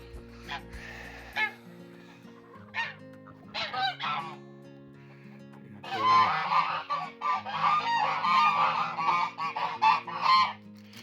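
Geese honk repeatedly in a farmyard flock, including a young goose that was a grey gosling the previous year, with bursts of calls growing louder and denser toward the end.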